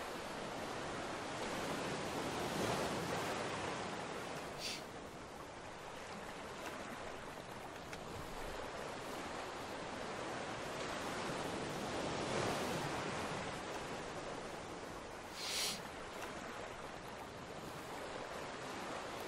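A digital ocean-ambience player plays continuous surf, a soft rushing wash of waves that rises and falls slowly, with a couple of brief brighter splashes.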